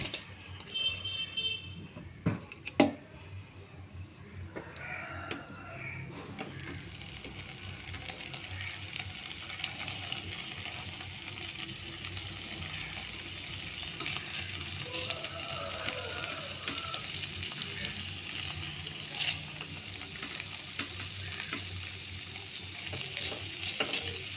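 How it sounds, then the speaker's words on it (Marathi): Prawns fry in hot oil for a Goan chow chow with a steady sizzle that continues throughout, softer at first and then fuller, with a few knocks and a clatter at the start. "आतां तेल घाता आनी सुंगटां फ्राय करता"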